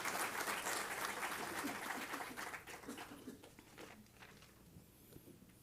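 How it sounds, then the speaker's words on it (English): A hall audience at a defence dialogue gives sustained applause welcoming the Chief of the Army Staff, dense clapping that gradually thins and fades toward the end. "Let us all, with a huge round of applause, once again welcome the Chief of the Army Staff."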